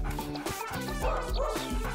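An excited cartoon dog by a river, eager after catching the scent of sausage, lets out quick yips and whimpering barks in a rapid run, loud and close over steady background music.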